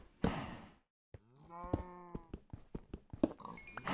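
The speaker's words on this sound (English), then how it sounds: "This cube has brought us the addition of the cows" Minecraft cows moo in a couple of drawn-out, wavering calls, close and clear, followed by a quick run of clicks and small blocky sounds.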